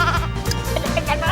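A game sheep bleats from the Wii profile screen, a short wavering electronic bleat repeated across the clip.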